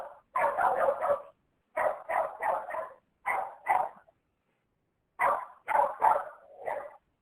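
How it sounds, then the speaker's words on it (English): A dog barks in quick clustered bursts, several groups of three to five sharp barks separated by short pauses, loud and close, with no talk over it. "And that's your dog?"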